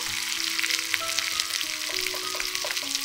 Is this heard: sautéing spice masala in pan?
yes